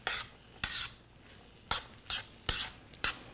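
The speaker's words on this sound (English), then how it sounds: "So we're just tossing this butter and corn together." Butter and corn being tossed in a pan, with six sharp, quiet scraping and clattering strokes spaced about half a second apart over a faint background.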